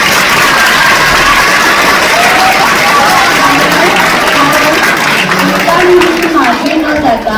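Parents and students at Varshotsav 2025, an Aksharnandan school annual day for the 7th standard, clap loudly for themselves, a dense continuous round of applause with crowd murmur and some shouting mixed in.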